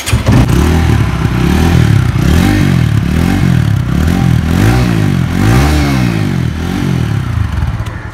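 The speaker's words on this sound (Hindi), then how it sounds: "हर्ष भाई की बाइक का एग्जॉस्ट नोट कितना लाउड है" TVS Apache RTR 200 motorcycle exhaust revving hard and loud at close range, repeated rising and falling throttle blips with some mechanical clatter, no talk.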